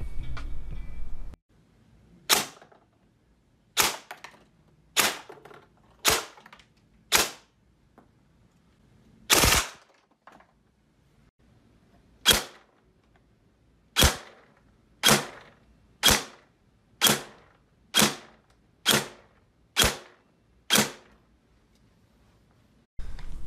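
ICS split-gearbox M4 airsoft gun firing single shots through a chronograph, about fourteen sharp cracking pops spaced a second or two apart in a quiet room, close and loud.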